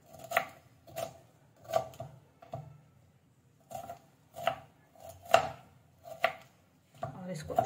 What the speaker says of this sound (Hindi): सबसे पहले ये सारी वेजिटेबलों को बारीक बारीक चॉप करके काट लेना है।